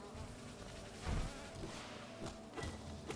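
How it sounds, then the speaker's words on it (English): A bee buzzes steadily in the video game Hollow Knight, a continuous droning hum with a few soft thuds underneath, close and moderately loud. "There's a bee up here?"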